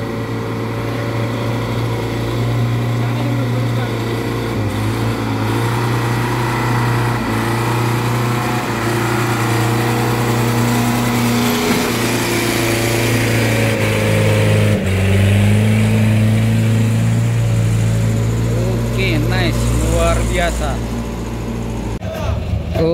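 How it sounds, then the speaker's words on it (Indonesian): An old 4x4 truck's engine drones loudly as it tows a Canter diesel truck up the steep Batu Jomba incline, a sustained heavy rumble with shifts in pitch, under continuous talk. "di sana satu unit truk Canter Coal Diesel sedang ditarik oleh truk tua"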